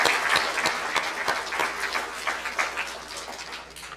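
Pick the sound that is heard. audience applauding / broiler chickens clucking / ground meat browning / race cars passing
audience applauding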